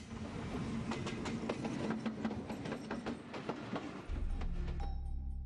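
A train runs on the railway line linking India and Bangladesh, its wheels clicking rhythmically over rail joints at close range, with a steady rumble beneath and the passing sound thinning out near the end.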